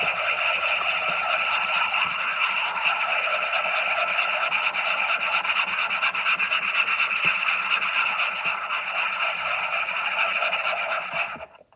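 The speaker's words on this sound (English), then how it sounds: "you're going to whip these until they are foamy. So here's the mini whipper." A small stainless steel mini whipper whirs steadily and close for about eleven seconds as it beats a mixture until foamy, giving a continuous buzzing drone that stops abruptly at the end.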